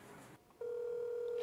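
A telephone call to a published number sounds faintly: a short dial tone gives way to a steady electronic tone that holds for about a second, fairly quiet.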